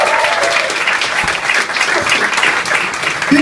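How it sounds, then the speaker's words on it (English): A stand-up comedy club audience in Rotterdam breaks into steady, dense applause for a comedian taking the stage, a loud, even wash of many hands clapping throughout with faint crowd noise mixed in. "You guys give a big round of applause"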